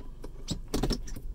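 Loose shift knob on an Audi B8 giving a few light, close plastic clicks and rattles as a hand works it, faint and quick over quiet cabin background.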